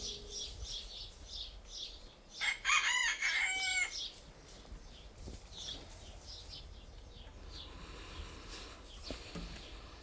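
Chickens crow and cluck close by, with a loud cock-a-doodle-doo rising midway over a steady murmur of hens clucking throughout, set during a live music performance of a Catalan children's song.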